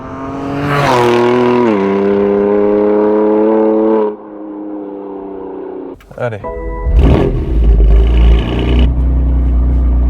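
A 700 hp stage 3 BMW M4 CS engine revs hard with rising, sustained harmonics, then settles into a deep, loud rumble while people talk over it.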